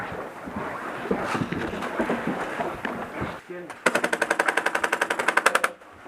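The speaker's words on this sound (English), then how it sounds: "Good shot, Chuck." Airsoft guns fire during an outdoor airsoft game: a scattered mix of shots and voices, then a close burst of rapid, evenly spaced automatic shots lasting nearly two seconds.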